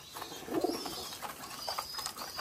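A pair of pigeons coo close by in soft, low murmuring phrases, with a few faint chirps in the background and no talk.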